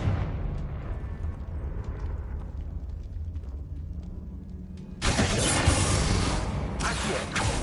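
A Confringo explosive spell from Hogwarts Legacy bursts out as a sudden broad blast that jumps the level and holds as a loud roaring wash over a steady rumbling game background, with no talking.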